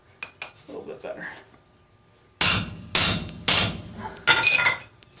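Soft face hammer striking hot iron while forging rivet tongs at a blacksmith's anvil: four loud, sharp, ringing blows in quick succession after a quieter stretch of light tapping and handling.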